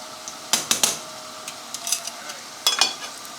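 Sausages tossed into a sizzling pan for aglio e olio spaghetti, with a soft fry bed broken by several sharp clatters and scrapes of stirring, close and intermittent.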